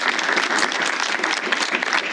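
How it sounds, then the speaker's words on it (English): Audience applause at a candidate forum hosted at a county fire protection district venue, a dense, steady wash of many hands clapping, loud and close, continuing without pause. "Let's give them a round of applause."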